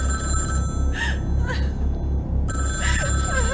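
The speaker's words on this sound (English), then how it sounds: "Well, who's gonna answer the phone?" An old-fashioned telephone bell rings in repeated bursts inside a house in a radio-style drama, loud and close over a steady hum, with a short pause in the middle.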